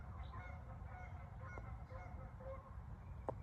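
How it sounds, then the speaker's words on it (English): Geese honk faintly in the distance, a few scattered calls over a low, steady background rumble. "listen to the geese"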